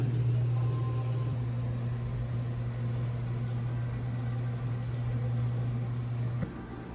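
Steady, low sizzling hiss from a steak cooking on a hot griddle, continuous and fairly quiet, with a faint hum underneath.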